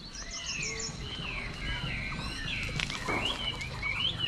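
Birds chirp and tweet near a nest outdoors in northwestern Vietnam, with varied whistled calls and trills over a rustling, noisy background.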